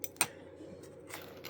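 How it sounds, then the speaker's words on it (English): Doyle scissors from Harbor Freight make a sharp snip, then fainter clicks as the blades work again, close and quiet over a low background hum. "These scissors are phenomenal."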